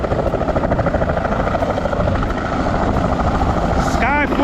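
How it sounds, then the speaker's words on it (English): A helicopter flies low overhead near an airfield, its heavy rotor chop and engine roar loud and steady throughout, with voices partly buried underneath. "helicopter's coming"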